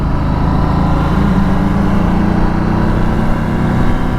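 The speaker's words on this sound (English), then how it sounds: "the exhaust does start popping in sport mode" Steady, close engine drone of a 2019 Ducati Multistrada 1260 S Touring motorcycle riding in sport mode, a continuous low rumble with faint irregular exhaust pops underneath.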